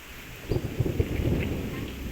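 Outdoor thunderstorm in a rural area: steady heavy rain fills the background while low rumbles of thunder roll in and build, loud and continuous with no talking.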